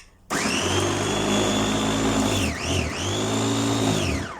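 A small electric food chopper with three speeds whirs loudly at high pitch, dips briefly in speed twice as it cuts, then spins on before stopping.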